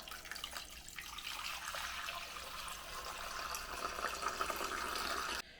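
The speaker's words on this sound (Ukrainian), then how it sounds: "Наливаю води на дно кастрюлі, так, щоб було до половини перцю." Water pours steadily into a saucepan holding peppers, a continuous splashing fill at moderate level that runs on without a break for several seconds and cuts off abruptly at the end.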